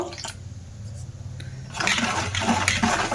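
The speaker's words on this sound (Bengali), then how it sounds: "এবার ব্যাটারটা আমি জল দিয়ে একটু হালকা করে নেব খুব সামান্য জল দিয়ে দেব" Water poured into a bowl of rice batter for chakli pitha, a short splashing, bubbling pour that starts midway and continues steadily, close and moderately loud after a quiet start.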